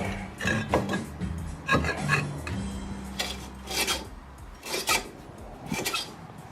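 A rebuilt rear drum brake rubs lightly as the drum is turned by hand, giving repeated raspy scraping strokes at close range, with no talking.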